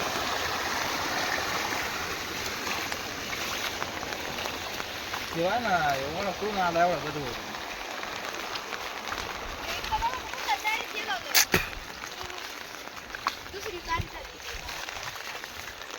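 After heavy rain near Sonai, Maharashtra, floodwater runs through a sugarcane field in a continuous rushing wash, while a voice speaks over it in the middle and a sharp knock cuts through briefly.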